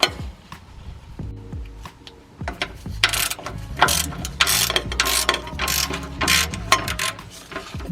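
A 14mm ratchet wrench clicks in loud, quick repeated runs while loosening exhaust Y-pipe bolts on an Infiniti G37, close up and alone with no speech.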